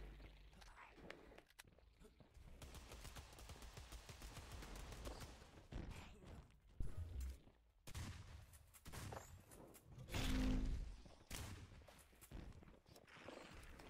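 Rapid bursts of gunfire from a student-made free-to-play sci-fi first-person shooter, Alien Removal Division, crackle in dense volleys alongside footsteps and game effects, with loud peaks and brief pauses between exchanges.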